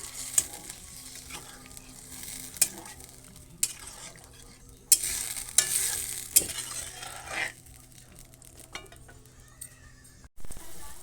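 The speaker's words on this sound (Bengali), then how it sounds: "দেখো আমার ঝোলটা ফুটে গেছে।" Curry broth simmering in a pot gives a steady bubbling hiss with scattered clinks and stirring scrapes, moderately close and without talk.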